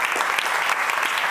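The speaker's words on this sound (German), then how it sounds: "Einmal einen herzlichen Applaus für die beiden." A seated audience at a German talk on data privacy after PRISM and XKeyscore breaks into steady, dense applause, loud and close, with no voices on top.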